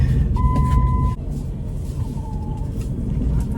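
An old pickup truck with a camper and 145,000 miles drives along with a steady low engine and road rumble heard from inside the cab, while a short electronic warning tone sounds briefly near the start.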